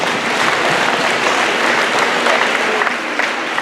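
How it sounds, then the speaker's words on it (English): Sustained applause from a high school audience at a Black History program, a dense steady wash of many hands clapping at once, loud and unbroken throughout with no voices standing out. "So give yourselves a big round of applause."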